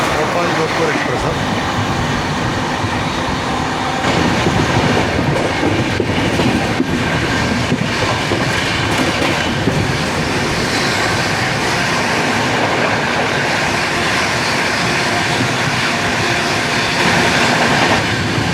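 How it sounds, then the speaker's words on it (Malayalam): Bhopal–Jodhpur Express train passing close by, a loud, steady rumble and clatter of wheels and carriages that continues throughout, with rhythmic clacking. "ഇതാണെന്ന് തോന്നുന്നു ഭോപ്പാൽ ജോധ്പൂർ എക്സ്പ്രസ്"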